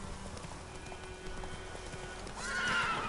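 Horses in The Witcher 3 video game clop their hooves in a steady, moderate rhythm, then one lets out a clear, rising neigh near the end, with no talking over it.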